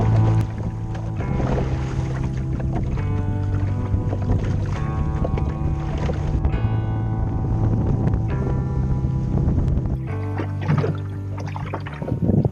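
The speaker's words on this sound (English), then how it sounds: "We're now sailing just west of North into a deep bay in the South Breton coast" A sailboat under way off the South Breton coast, heading into a deep bay, with a steady, loud rush of wind and water over a droning motor-like hum, running continuously without voices.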